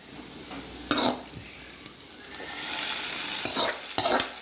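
Hot tempering poured over dried fish kuzhambu in a Tamil home kitchen sizzles in a few sharp bursts, with stirring and hissing at close range and no talking.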